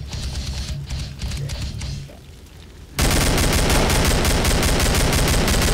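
Rapid automatic gunfire in the video game Killing Floor, first as scattered quieter shots, then loud, dense, sustained bursts that fill the second half without pause.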